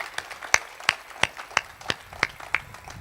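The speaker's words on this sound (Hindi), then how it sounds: "एक बार जोरदार तालियां हो जाएं पॉपुलर भाई के लिए।" Sparse, separate hand claps from a poetry-reading audience for the poet Popular Merathi, about eight sharp claps spread evenly over a few seconds, fairly faint and with no talk over them.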